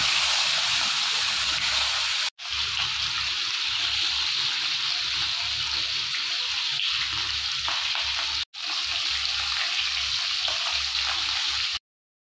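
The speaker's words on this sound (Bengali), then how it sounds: "তারপর এদিকে তেলটাও গরম করে মাছটা ভাজতে শুরু করেছি।" Pomfret fish frying in hot oil in a home kitchen, a loud continuous bubbling sizzle that holds steady throughout, broken by two brief silent cuts.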